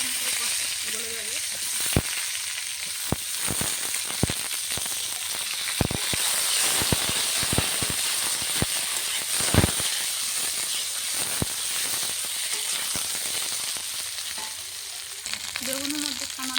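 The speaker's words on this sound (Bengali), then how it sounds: "এখন বেগুনটা ভেজে নেবো এই তেলে" Eggplant frying in oil left over from frying fish, a steady close sizzle and hiss punctuated by sharp spatula taps and pops on the pan.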